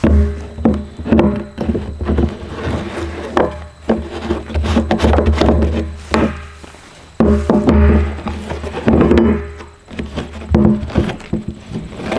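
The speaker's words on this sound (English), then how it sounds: "We're going to open up these bungs with our Princess Auto bung wrench." Plastic bungs on an empty chlorine-product barrel are loosened with a metal bung wrench, giving repeated close scraping, knocking and rubbing sounds in irregular bursts, with no talk.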